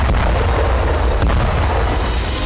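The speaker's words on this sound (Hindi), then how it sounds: "एक रहस्यमयी धमाका मॉस्को के पोडोस्क में हुआ।" A deep, rumbling boom with sustained low-end roar, loud and continuous, like a distant explosion echoing without any voices; a mysterious explosion in Podolsk, Moscow region.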